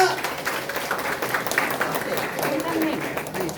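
Applause from members at a Democratic Party core members' meeting in Daejeon, a steady wash of clapping with crowd murmur and speech mixed in throughout.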